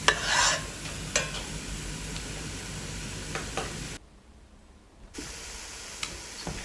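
Masala for lime pickle fries in a pan with a steady, close sizzle and repeated scraping from stirring; the sizzle cuts out briefly near the end, then resumes.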